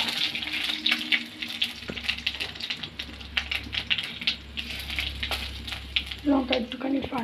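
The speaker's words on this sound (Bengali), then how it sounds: "লঙ্কা একটুখানি ফাটবে" Chilli, cumin and bay leaf crackling and sizzling in hot oil in a pan, giving a steady hiss dotted with sharp little pops, while a voice talks over it at times.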